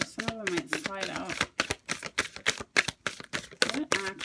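Tarot cards are shuffled by hand in a rapid burst of crisp riffling clicks and slaps, with short pauses between bursts, while someone talks over the opening and closing moments.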